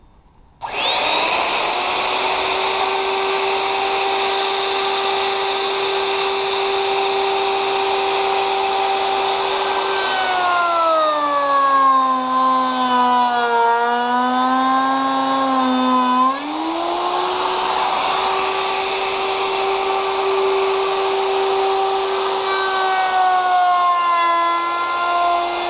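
A loud power tool whines steadily while cutting board pieces for a board stretcher circle trim, its pitch sagging as the blade loads up in the cut, then recovering to a sustained high drone.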